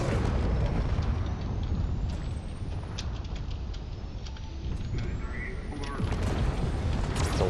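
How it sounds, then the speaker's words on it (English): Heavy explosions boom and rumble through a space combat video game battle with charging railguns. The low, continuous roar is punctuated by sharp bursts and rising whistles of weapon fire. "There's a lot of big explosions here."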